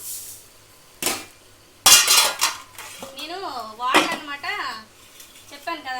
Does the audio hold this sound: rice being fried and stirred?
yes